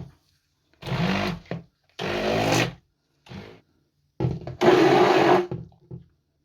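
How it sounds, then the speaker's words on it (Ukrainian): A blender mixing pancake batter whirs in several short bursts separated by silences, loud and close, each pulse revving up then cutting off. "зараз переб'ю блендером"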